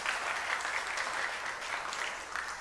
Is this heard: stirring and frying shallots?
no